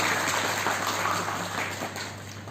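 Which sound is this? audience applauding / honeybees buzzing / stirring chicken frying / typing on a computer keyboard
audience applauding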